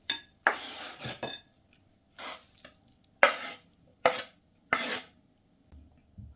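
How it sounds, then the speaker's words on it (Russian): Diced meat tipped from a dish into a bowl of potatoes and onions, a handful of sharp close clinks and scrapes of utensil against dishware with soft thuds between, no voices. "Высыпаем мясо к картофелю и луку."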